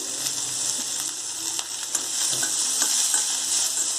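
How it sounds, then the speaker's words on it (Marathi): Onion sautéing in a pan for a potato vegetable filling, giving a steady bright sizzle throughout with a few soft stirring scrapes, close and continuous with no voices. "तर ही कांदा जो आहे तो आपण परतून घेऊयात"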